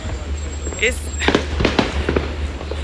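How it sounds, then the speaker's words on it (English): Scattered fireworks pop and crackle at a Fourth of July park, distant and fairly faint, a few bursts spread across a busy outdoor scene with crowd noise beneath. "we just finna go see a little bit of the fireworks"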